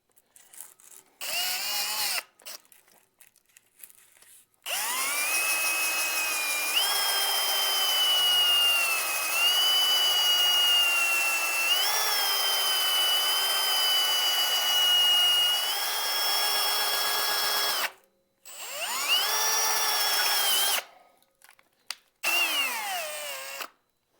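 A power drill spinning a homemade, slightly bent sandpaper rod to sand out a hole, a steady high whine that runs for long stretches, broken by short pauses and restarts.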